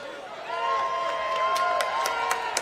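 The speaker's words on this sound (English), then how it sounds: "she's receiving an applause, a deserved applause" Football crowd at a women's league match between Lewes and AFC Wimbledon applauding a goal, a steady wash of clapping and cheering with a few sharp claps standing out, heard under a commentator talking.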